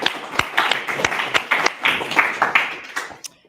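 Scattered applause from a fairly small audience as a student team called Sesame is welcomed to the stage, with distinct individual claps that thin out toward the end.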